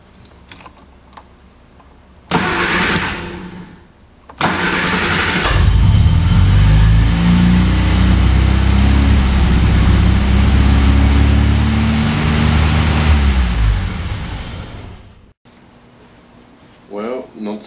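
Warm engine of a 1966 Triumph Spitfire MK2 running close by, a loud, steady idle rumble lasting about ten seconds after a brief startup, then cutting off, with some clicks and talk around it.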